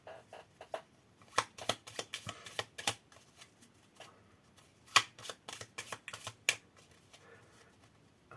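Initiative cards for a Dragonbane tabletop RPG being shuffled by hand, a series of crisp riffling bursts and light slaps in irregular clusters, close and quiet.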